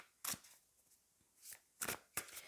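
Tarot cards shuffled and drawn at close range, several quick papery riffles and slaps spaced across a quiet moment with no talking.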